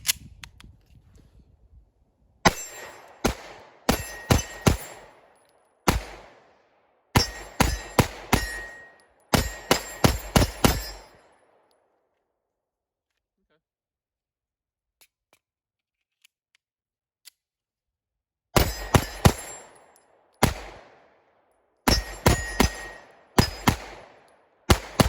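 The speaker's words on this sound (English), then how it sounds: "So the micro dagger, you saw me put some rounds through it, put over 100 through it just now." Rapid bursts of sharp, close pistol shots from a PSA Micro Dagger, fired in quick strings with gaps of silence between groups; no talking.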